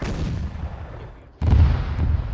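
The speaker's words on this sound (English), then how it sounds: "Battle cannon just fired" A battle cannon fires in Arma 3, one deep booming blast following a fading rumble, loud and close over a low background roar.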